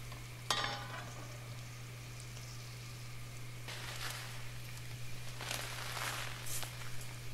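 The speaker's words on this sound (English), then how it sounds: "On my soup pan, I have about 1 tablespoon butter and 2 tablespoons olive oil heating, and I'm adding medium-sized chopped onion to it." Chopped onion sautéing in butter and olive oil in a soup pan, a soft continuous sizzle with a sharp clatter near the start and a few louder stirring bursts later, under a steady low hum.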